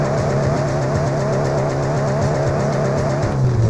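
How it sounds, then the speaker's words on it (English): Car engine from a PS3 driving game drones steadily at a loud, constant level with slight pitch shifts, revving slightly near the end, with no talk over it. "I have to back off periodically because that engine noise gets on my fucking nerves."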